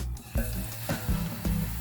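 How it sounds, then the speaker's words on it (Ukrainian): Battered pork chops go into hot oil in a heated frying pan, giving a steady soft sizzle with a few dull thumps as pieces are laid in. "На розігріту сковорідку я налила олію. І тепер буду накладати отбівні."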